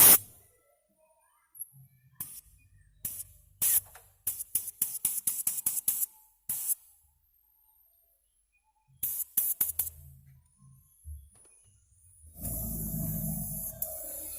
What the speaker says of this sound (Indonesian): Langsung saja kita semprotkan perlahan